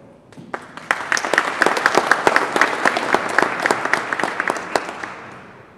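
Sustained applause from an audience at a statehouse reception, welcoming a speaker to the podium, with dense clapping that swells quickly and holds steady before tapering slightly.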